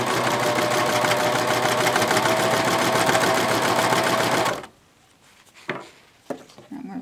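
A serger sewing machine runs fabric through a single fold bias binder with a loud, rapid, steady stitching hum for about four and a half seconds, then stops, leaving faint handling noises.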